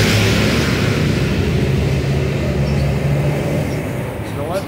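A steady roar of passing vehicles and road noise fills the scene, dense and continuous, heard from close by on busy Thonglor Road in Thailand.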